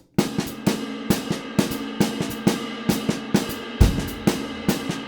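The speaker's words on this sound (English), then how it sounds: "And the ride cymbal is going to play the original phrase that we had going." Jazz drum kit with the ride cymbal keeping a steady time pattern while the left hand plays a repeating phrase of snare and drum accents, close and clear with no talking.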